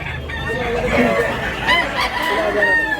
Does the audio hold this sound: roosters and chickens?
yes